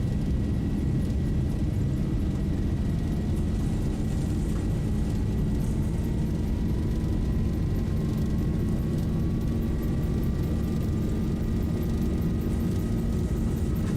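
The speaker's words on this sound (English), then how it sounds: "Takeoff thrust set." Airliner engines spooling at takeoff thrust in a flight simulator running the Zibo mod, departing Stockholm-Arlanda: a steady, loud, full roar with a slowly rising whine sustained through the whole stretch, with no talking.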